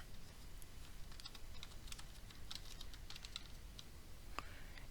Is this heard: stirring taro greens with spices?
no